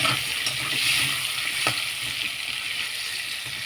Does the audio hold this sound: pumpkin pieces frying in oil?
yes